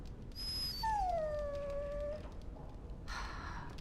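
A dog in the Dragon Age video game lets out a single drawn-out, falling whimper, close and clear, trailing into a quieter whine with faint background noise after it.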